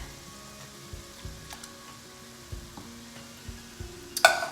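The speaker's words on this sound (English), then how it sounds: "The next thing we're going to add is a can of diced tomatoes." A can of diced tomatoes going into a hot chili pot, giving a low, soft sizzle with scattered light stirring knocks and a brief brighter burst near the end.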